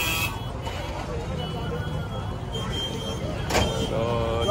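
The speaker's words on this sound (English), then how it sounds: "probably a whole lot of traffic here" Busy street traffic in Duala, Monrovia, Liberia: a constant rumble of engines and road noise, a horn-like tone sounding twice, and people talking nearby throughout.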